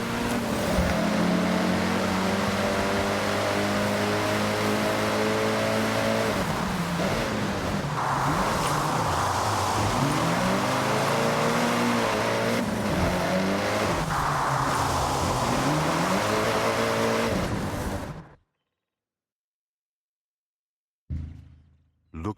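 A race car engine fitted with an anti-lag turbo in the Forza Horizon 6 video game drones loudly for around eighteen seconds as revs rise and fall, then cuts to silence before briefly returning at the very end.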